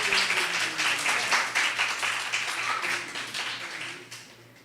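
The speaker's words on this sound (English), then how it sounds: "Give them another round of applause" An audience at a memorial lecture at the Lloyd Best Institute in Trinidad applauds a parang music group, lively clapping from many hands that stays strong before tapering off near the end.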